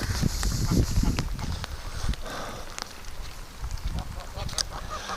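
Outdoor scene with scattered ducks quacking over footsteps and shuffling, with a voice or two mixed in.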